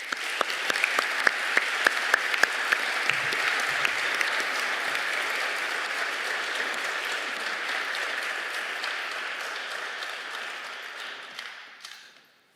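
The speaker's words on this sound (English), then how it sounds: "let's give a round of applause for these three" Audience applause for three veteran performers at a university event honoring veterans, a few sharp individual claps swelling into steady, full clapping that holds, then tapers off to silence near the end.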